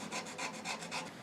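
A small wooden part for a woodturned nativity scene is sanded by hand in five quick, even back-and-forth rubs, close and soft, with no voices.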